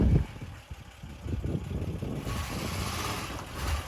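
A Ford Mk1 Granada 3.0 V6 Ghia car pulls away, its engine a steady low rumble with a brief louder burst at the start, then a continuous moderate drone rising slightly toward the end.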